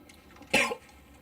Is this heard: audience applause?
no